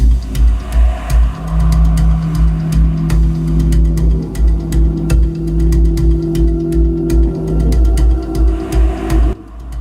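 Several cars drive recklessly along a road at Nadapuram, Kozhikode, in a wedding celebration convoy spreading coloured smoke; loud engines drone and rev nearby with pulsing swells and scattered sharp clicks, no clear speech.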